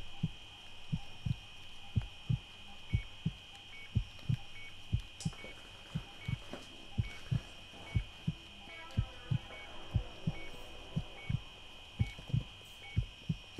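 Slow, steady heartbeat thumps from a surgery video game, evenly spaced and soft, over a constant electronic hum with faint beeps.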